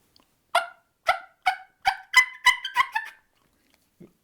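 A hand-operated turkey call imitating a hen, giving a series of about eight sharp yelping notes in a quickening rhythm, then a faint low note at the end, loud and close with no talking.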